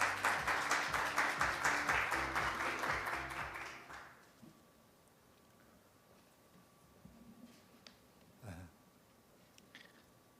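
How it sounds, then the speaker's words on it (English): Warm round of audience applause at a business forum in Korea, clear rhythmic clapping for about four seconds that fades out abruptly, leaving a quiet hall with faint rustles and a soft thump. "Please welcome him with a warm round of applause."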